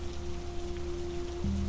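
Steady, soft rain falls around a cabin by the sea, a continuous even patter with a low hum beneath it and no voices.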